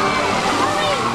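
Water splashing over a front-row crowd at an amusement park dive show on a hot day, a dense steady wash of spray and slosh mixed with crowd chatter and voices throughout.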